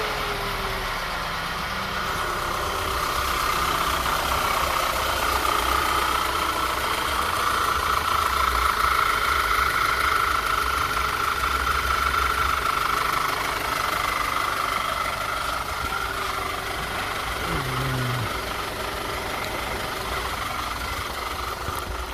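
A 2009 Audi A4 turbo engine idles steadily at close range after an oil flush, a continuous low hum with faint ticking running unbroken for over twenty seconds, no voices.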